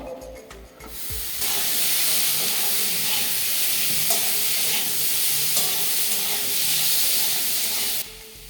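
Larger-cut potato pieces dropped into a pan of hot oil with fried onions, a sudden loud hissing sizzle that bursts in and holds steady for several seconds before easing, close up and without any voices.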